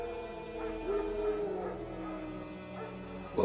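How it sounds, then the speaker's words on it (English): Wild dogs in The Witcher 3: Wild Hunt, faint distant barking and a drawn-out howl over low ambience, ending in a sudden louder burst. "Wild dogs. Yes. More dangerous than wolves."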